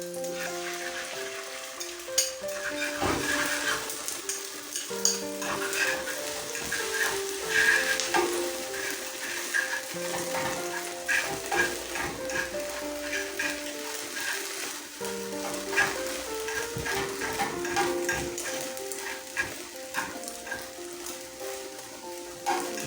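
Eggs sizzle and fry steadily in a hot pan while being cooked soft for a Mexican breakfast burrito, a continuous crackling hiss with occasional stirring scrapes, close and fairly loud, with no one talking.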